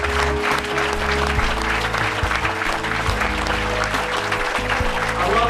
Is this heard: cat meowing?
no